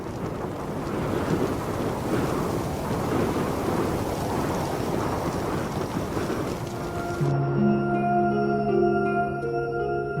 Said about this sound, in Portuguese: O fogo se alastra, levado pelo vento.